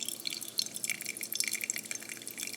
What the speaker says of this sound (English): And then that's how you can see it dripping inside the cup.